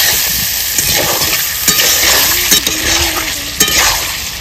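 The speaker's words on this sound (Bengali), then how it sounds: "মাছগুলো আমি 2 মিনিট মতো মাংসের যেরকম কষাই এরকম কষিয়ে নেব।" Marinated singhi fish stir-fry in a hot pan, with loud, continuous sizzling and frying under rhythmic stirring scrapes and the occasional knock of the utensil against the pan.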